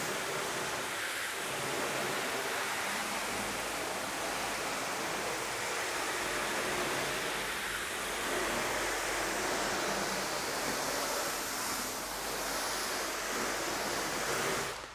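Water spray rinsing freshly applied spray sealant foam off a car's paintwork, a steady broad hiss running nonstop and fairly close, with slight swells in intensity and no talking.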